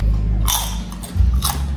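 A bite into crispy pork dinakdakan gives a loud, close crunch followed by a few more crackly chews over a low background hum, with no talking.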